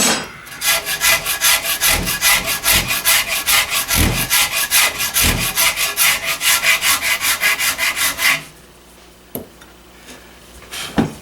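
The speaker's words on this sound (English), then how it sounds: "Now I'm going to continue up the stock a little bit with this Shinto rasp and smooth out the coarser rasp marks" A Shinto rasp smooths a wooden gun stock with steady, rhythmic back-and-forth strokes, loud and close, for about eight seconds. The scraping then stops, leaving a quiet room with a couple of faint knocks.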